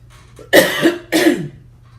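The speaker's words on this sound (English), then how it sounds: "if I just like start coughing out of nowhere, I'm not dying." A person coughs twice in quick succession, close and loud, each cough harsh and throaty, with a brief breath before the first.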